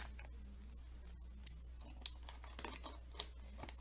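Faint, sparse snips and clicks of scissors cutting through packaging on a Tokyo Treat snack box in a quiet room, with a couple of sharper cuts standing out.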